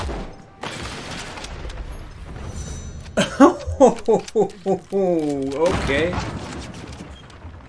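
Sharp bursts of gunfire from the video game Jagged Alliance 3, about seven rapid shots in quick succession, with someone speaking briefly before and after the volley.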